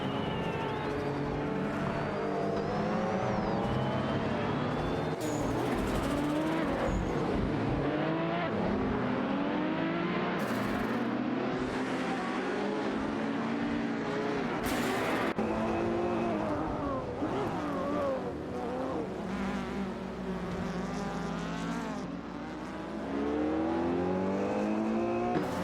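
Race car engines roar continuously in a simulated AI race video game featuring a Ferrari F50 and a Peugeot, with revving, gear shifts and tire squeals layered throughout and a commentator's voice faintly underneath.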